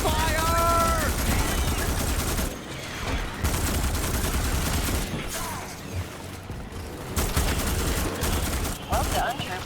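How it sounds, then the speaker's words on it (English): Dense automatic gunfire fills a video game firefight, bursts running nearly the whole time with brief lulls, loud and close, mixed with a shouted voice near the start. "Covering fire!"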